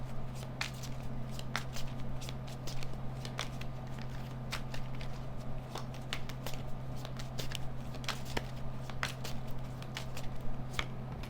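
Tarot cards are shuffled by hand, a close, quiet run of soft riffling snaps and slides repeating steadily over a low steady hum.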